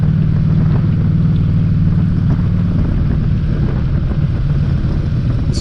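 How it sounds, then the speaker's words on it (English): A 1600cc motorcycle engine while riding, a steady low rumble with a constant engine hum throughout, loud and close with wind noise and no talking. "This is a good road to learn how to handle this beastly 1600cc engine"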